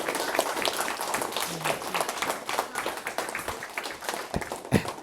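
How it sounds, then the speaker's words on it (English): An audience at a school talk gives a round of applause, brisk clapping at moderate distance with a few voices underneath. "one huge round of applause for Brian."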